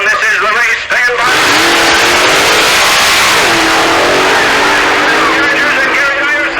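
Two 1966 drag race cars, a blown Hemi against the Ramchargers, launching side by side at Ubly Dragway: loud, steady engine roar rising in pitch as they accelerate, continuous throughout with an announcer talking over it.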